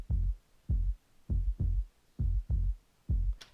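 A plain sub bass track from action music for a game, heard alone as seven deep, booming low notes in an uneven rhythm, each swelling quickly and decaying before the next.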